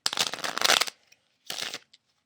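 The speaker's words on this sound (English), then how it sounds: "let's shuffle one more time" Tarot cards being shuffled up close in two brisk bursts of crisp riffling, separated by a short pause.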